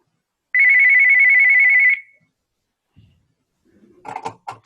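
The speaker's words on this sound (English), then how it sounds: "that's my phone. Let me get rid of that." A mobile phone ringtone sounds once during a Zoom committee meeting, a clear steady electronic tone lasting over a second before it is cut off, followed by a few quiet clicks and thumps.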